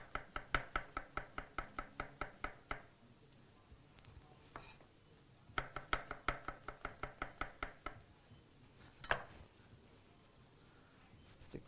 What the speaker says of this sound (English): So your mushrooms, just chop in half